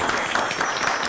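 Brief burst of audience applause at a health awareness event, dense clapping from a crowd, close and steady.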